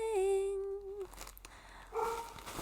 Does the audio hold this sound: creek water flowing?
no